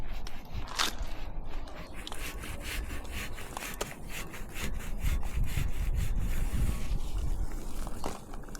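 Rusty metal on a Fiat Ducato van being cleaned and rubbed down by hand, a steady close scraping and rubbing noise that keeps going throughout with a few sharper strokes.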